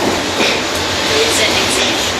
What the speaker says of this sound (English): I'm on the tram again with Anastasia, my host.